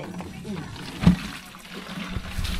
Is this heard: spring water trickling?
yes